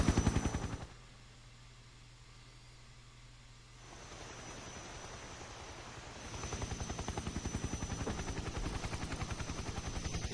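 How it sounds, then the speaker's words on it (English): A Hind helicopter hovers overhead in the Metal Gear Solid game, a rapid chopping rotor pulse that cuts out briefly and then returns, growing louder and more insistent, with no talk. "Did no one notice the sound of a helicopter right above them?"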